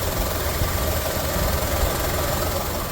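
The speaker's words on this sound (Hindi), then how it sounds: "ये इंजन है, इंजन चालू कर दिया हूँ, इसकी साउंड कुछ इस तरह आ रही है।" Small engine of a 2022 Maruti WagonR idling just after start-up, a steady close, even drone with a faint knocking vibration running through the whole moment and no talk.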